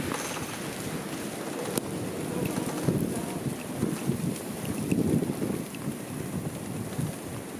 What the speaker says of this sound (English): that wind is brutal at times